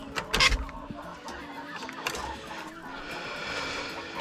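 A rooster clucks in a backyard poultry coop, a few short calls near the start amid faint mechanical rustling and low background noise.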